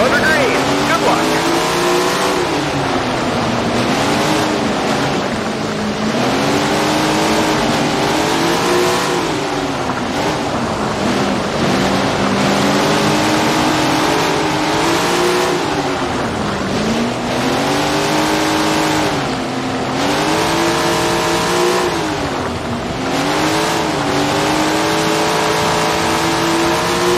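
A pack of 410 sprint cars roars around Grant Park in Tony Stewart's Sprint Car Racing. Loud, steady engine howls rise and fall through repeated revving cycles, with a commentator's voice heard over the racing.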